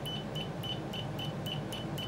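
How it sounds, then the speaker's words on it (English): A cheap multimeter gives a rapid series of about eight short, evenly spaced high beeps, loud and close, over a steady background hum. "as you can tell, nice loud beep"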